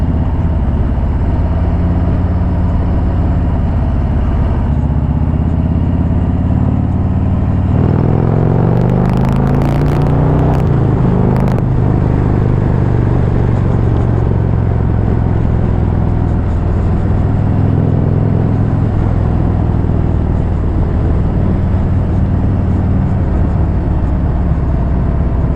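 A 2018 Harley-Davidson Street Glide being ridden, its engine a deep, steady rumble with strong wind roar. About halfway through, the pitch shifts and climbs as the bike speeds up to overtake, with brief rattling, then it settles back into cruising.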